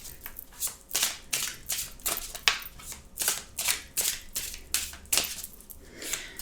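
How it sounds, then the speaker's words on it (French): Tarot cards being reshuffled by hand, a close, steady run of crisp riffling and slapping bursts about twice a second, with no talk over them. "Alors, je remélange un petit peu."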